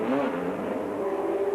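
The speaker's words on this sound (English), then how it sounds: "But the Spice bursts into life thanks to a new battery" A Spice race car at Brands Hatch during the 1987 Shell Gemini 1000km, with a steady engine drone that lifts slightly in pitch as it pulls away, heard from a moderate distance under trackside ambience.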